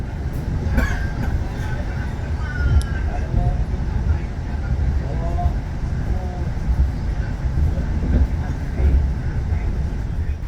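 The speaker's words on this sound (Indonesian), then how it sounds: "Saat ini kereta api Majapahit bertiba di stasiun Bekasi" A Majapahit economy-class passenger train rumbles steadily with a constant low roar, faint rhythmic clatter and occasional squeals while arriving at Bekasi station, as a voice speaks over it.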